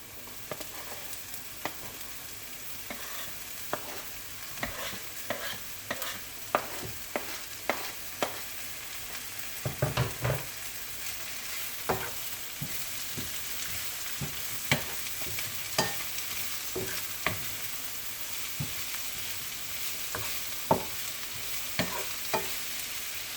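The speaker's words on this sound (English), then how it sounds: "Now guys, I'm going to add my spinach." Fresh spinach sizzles in a hot frying pan on a stove for a Jamaican-style stuffed fish recipe, with a steady frying hiss and irregular sharp clicks and scrapes of stirring, no voices.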